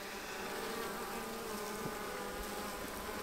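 Honey bees in a small, weakened hive after winter, with the queen among them, give a steady, close, low droning hum that holds unchanged throughout with no voices.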